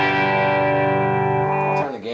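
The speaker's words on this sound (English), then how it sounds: "Here's it with the reverb off" A single loud sustained chord on electric guitar played through a Marshall JVM 410H amp's clean channel with slight gain and the reverb switched off, held steady before the pitch bends and the chord is choked off.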